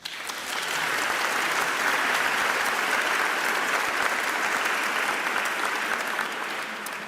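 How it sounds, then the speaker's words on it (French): Congregation applauding inside a cathedral after a jubilee Mass, a sustained full clapping that swells in quickly, holds steady, and fades slightly at the end, with faint voices mixed in. "Nous pouvons aussi les applaudir."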